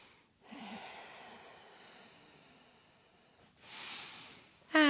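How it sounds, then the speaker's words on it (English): Slow, deep breaths during a hatha yoga session, a long soft exhale followed by a sharper inhale, close and quiet with no talk. "Deep breaths, lovely."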